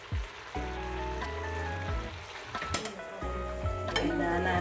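Pork steak pieces frying in a pan with seasoned mushrooms make a steady, loud sizzle that swells as the meat goes in, with occasional clinks and stirring noises.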